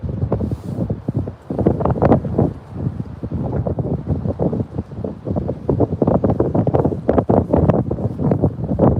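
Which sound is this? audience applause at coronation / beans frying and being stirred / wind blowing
wind blowing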